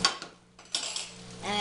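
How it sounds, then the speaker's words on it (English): Rabbit pieces being set into a metal baking pan, giving a few close clinks and scrapes of metal and utensils with a short quiet gap midway. "So put the rabbit in there in a baking pan"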